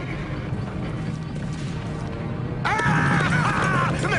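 Cartoon horse sounds from an animated Redwall episode: galloping hoof clatter with creaking and crashing, then a loud high whinny bursting in and sustained near the end, with no talk.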